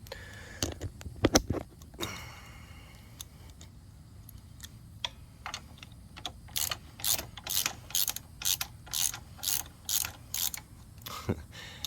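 A ratchet clicks on a deep socket, tightening the front bolt of a Kawasaki Vulcan S 650 peg and shifter mount. Scattered clicks and small clanks come first, then a steady run of about ten evenly spaced, sharp ratcheting bursts close by, with no talking.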